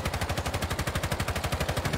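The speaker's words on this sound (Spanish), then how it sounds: "Disparando una ráfaga larga" A long burst of rifle fire in Rainbow Six Siege, a steady, evenly spaced stream of close automatic shots that keeps going without a pause.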